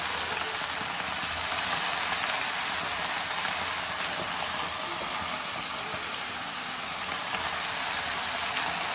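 Gongura leaves and chillies frying together in a pan for a village-style gongura pickle, a steady, loud, close sizzle that carries on without a break throughout.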